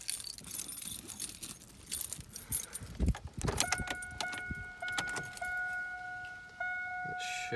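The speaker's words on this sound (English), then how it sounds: "Run the key in the ignition." A key is turned in the ignition of a 1998–2004 Chevy S10 4WD pickup, a jangle of keys followed by steady warning chimes from the dash, close and moderately loud with no talk.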